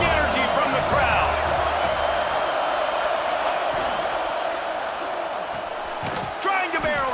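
Stadium crowd noise roars steadily from a college football video game at third and goal, a loud continuous wash with a brief swell near the end, under play-by-play commentary.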